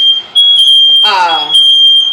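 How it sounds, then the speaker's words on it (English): A smoke alarm, set off by opening the oven, beeps with a piercing, steady high-pitched tone throughout, and a voice speaks briefly over it partway through. "Every time I open my oven, the smoke alarm goes off"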